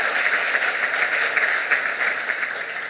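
An audience at a Seattle University executive speaker series event breaks into steady, dense applause, many hands clapping at once in a continuous wash that stays fairly even and full throughout.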